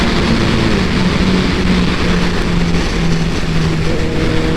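A 2014 Kawasaki ZX-14R motorcycle pulls hard in fourth gear, a loud, steady engine roar with a rising tone and heavy wind rush, heard from the rider's position with no talk.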